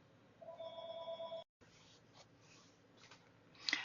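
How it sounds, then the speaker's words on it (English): A telephone rings in a quiet craft room during stencilling on a Kraft-Tex journal cover, a faint electronic trill of two short bursts followed by a pause, distant and alone, then soft rustling. "The phone's ringing."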